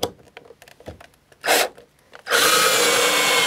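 Power drill driving a screw into wood, with light handling clicks first, then a short buzzing burst and a sustained loud whir to the end, no speech.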